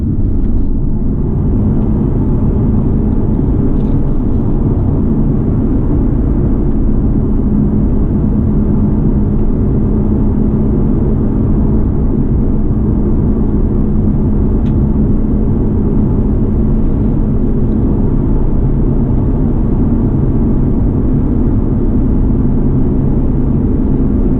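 A Nissan 370Z Nismo cruises a curvy Tennessee road, its engine and road noise a loud, steady low drone with no changes in pace.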